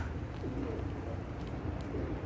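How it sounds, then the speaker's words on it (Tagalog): Pigeons feeding coo softly amid a dense, rustling outdoor hum, with low murmuring and shuffling throughout. "busy pa rin ang mga kalapati"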